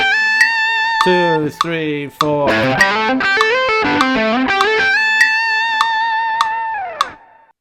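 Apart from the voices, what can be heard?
distorted electric guitar playing intervallic pentatonic lick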